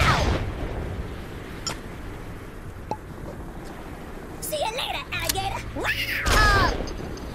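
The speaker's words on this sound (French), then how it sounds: "Je crois que c'est des explosions plus importantes." Big explosions from the Warmageddon attack in the Worms W.M.D. video game, scattered booms and whooshing effects under a player's speech, rising in activity toward the end.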